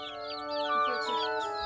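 Chickens in a yard at dusk, clucking and calling in a busy overlapping stream of short chirpy notes, fairly close, with no talk over them.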